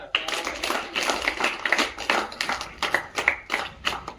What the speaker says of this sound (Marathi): हिच्यासाठी पहिले 3 टाळ्या द्या।